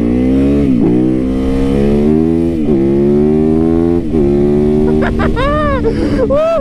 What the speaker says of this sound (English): that feels good when you can just rip, ring the heck out of that throttle